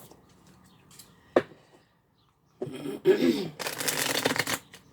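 Tarot cards riffle and slap: a single sharp card snap, a pause, then a long, close, crisp shuffling flutter as the deck is mixed and split.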